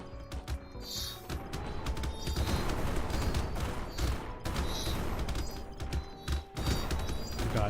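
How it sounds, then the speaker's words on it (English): Explosions and rapid gunfire from an FPS roguelike video game, with drone attacks, dense clattering bursts and repeated booms packed close together in a continuous loud barrage. "That explosion sound is getting really annoying."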